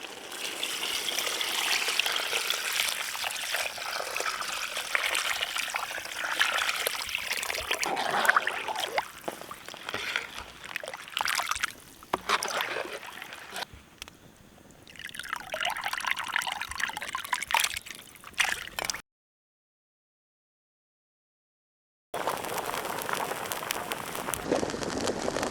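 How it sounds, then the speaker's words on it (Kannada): Water is poured into a village-style crab soup pot seasoned with rock salt, coriander powder, turmeric and tamarind, a steady gushing splash that falters and resumes, goes silent for a few seconds, then returns. "ಸೂಪ್ಗೆ ಎಷ್ಟು ನೀರು ಬೇಕೋ ಅಷ್ಟು ಹಾಕೊಳ್ಳೋಣ."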